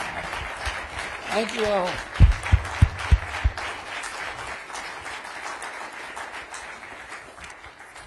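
Audience applause for a cabinet secretary at a mental health event, a broad wash of clapping running under the whole stretch while people talk over it, with a few loud low thumps partway through.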